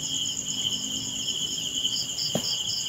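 Night chorus near an abandoned hidden cemetery: a steady, dense high-pitched trilling drone runs without a break, with a soft low rumble beneath and one brief thump near the end.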